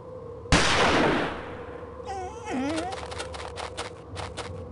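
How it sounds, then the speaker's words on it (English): A single sharp gunshot in the Agatha Christie Murder on the Orient Express video game, loud and sudden with a fading tail, followed by a brief yowling animal cry and scattered rustling clicks. "The gunshot seems to have frightened him off."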